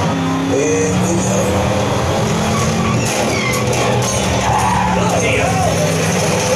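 Race cars pull away at a race start after the warm-up lap, engines roaring and rising in pitch with tire skids and passing whooshes, played loud through a 5.1 surround home theater system.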